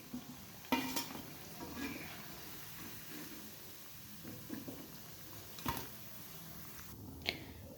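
Iftar snacks frying in hot oil, a soft continuous sizzle with occasional clinks and stirring scrapes of utensils against the pan, fairly quiet and without talk.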